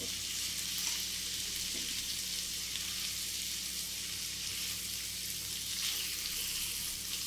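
Marinated chicken pieces on skewers fry in oil over low heat in a pan, making a steady, close sizzle with fine crackling and no talk over it.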